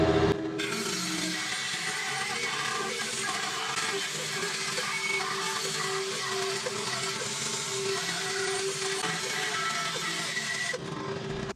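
A bandsaw cuts a white oak bowl blank from an old, cracked log, producing a steady, loud whirring rasp that holds evenly for about ten seconds before stopping.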